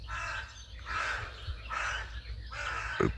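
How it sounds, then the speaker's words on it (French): A crow caws outdoors on a sunny morning: four harsh, drawn-out calls spaced roughly evenly, fairly close and clear against a quiet background, with no talking. "Le corbeau qui chante."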